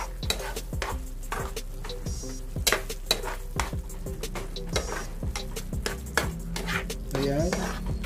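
A utensil stirs a creamy chicken mushroom dish seasoned with black pepper in a pan, with close, repeated scraping strokes over a steady sizzle and occasional clinks of metal on the pan.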